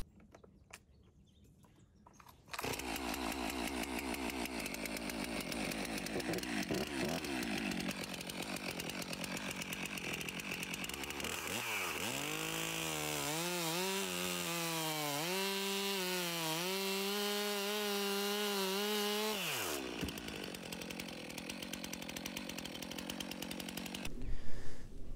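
A chainsaw with a freshly sharpened chain starts up loud and close, then bites into a log, its pitch sagging and recovering under load through the cut before it drops back and cuts off.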